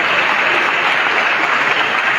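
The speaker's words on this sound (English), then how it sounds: "Let's keep clapping till he gets to his seat, please." Audience applause at a medical students' quiz club final, steady dense clapping from a crowd, loud and sustained without a break.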